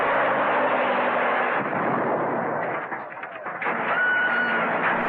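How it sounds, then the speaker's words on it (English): Explosion in an old film serial: a loud, sustained roaring blast with rumbling debris that dips briefly near the middle and then swells again, dense and close throughout. "I also want to point out that is not an avalanche, that is just an explosion"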